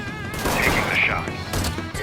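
Gunfire in the video game Mafia 3, with a burst of loud shots over dense action noise and music, and a voice talking during the shooting.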